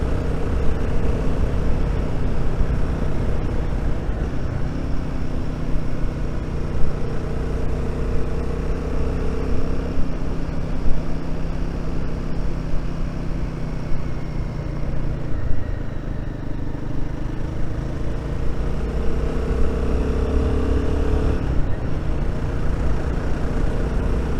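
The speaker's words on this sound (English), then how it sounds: "Trying my best not to let the engine lug" A Royal Enfield Guerrilla 450 motorcycle engine climbs a hill in the Lyth Valley near Bowness on Windermere, a continuous loud drone under steady wind rush, the pitch shifting slightly as the load and gears change.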